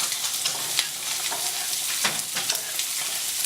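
Spring onions fry in hot oil in a pan, a bright steady sizzle with crackling pops and occasional stirring scrapes, close and continuous with no talking.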